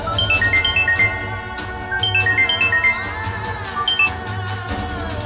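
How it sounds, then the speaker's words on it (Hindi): A phone ringtone plays a repeating electronic melody in steady phrases, fairly loud and close, with no talking over it. "कम ऑन शुजा, ये फोन क्यों नहीं उठा रहे?"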